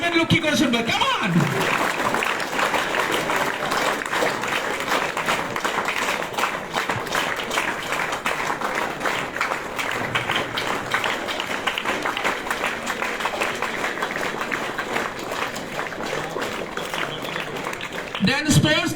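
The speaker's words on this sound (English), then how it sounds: "Please keep on clapping." Sustained applause fills a school gathering for a captaincy handover, dense steady clapping from a large crowd of students running almost unbroken, with voices mixed in underneath.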